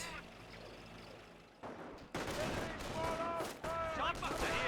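Gunfire from a Company of Heroes 1 battle replay, with sharp shots and rumbling artillery bursts in a busy wartime soundscape and a commentator talking over them.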